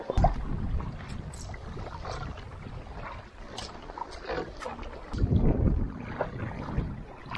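A tandem kayak is paddled on the water of Prince William Sound, Alaska, with soft paddle strokes and water swishes under steady wind rumble on the microphone, with a louder splashy stretch near the end and no speech.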